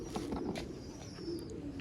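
Zeera breed pigeons coo softly in a loft, low murmuring calls repeating over a steady background hum with a few faint higher chirps.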